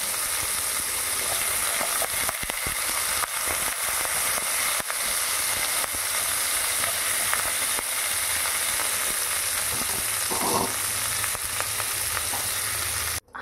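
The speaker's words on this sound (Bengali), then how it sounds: "মূলোটা অল্প হালকা ভেজে নেব।" Salted radish pieces fry in hot oil in a kadai, giving off a loud, dense, continuous crackling sizzle. A few faint utensil knocks sit beneath it, and no one speaks.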